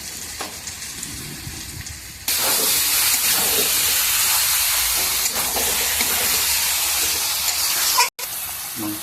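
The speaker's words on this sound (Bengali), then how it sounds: "এবারে মাটনগুলো দিয়ে দিচ্ছি।" Mutton pieces dropped into hot oil with cooked-down spices, a quiet pan first and then a sudden loud, steady sizzle that holds for several seconds before cutting out briefly.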